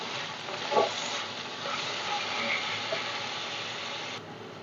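Three chopped tomatoes frying in a pan, giving a soft, steady sizzle with a faint knock early on that stays moderately quiet and continuous throughout.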